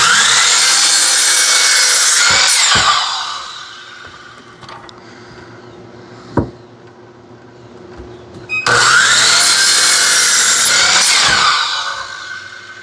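Pallet wood blocks being cut with a saw: two long, loud, steady cuts close by, separated by a quieter pause with a single sharp knock.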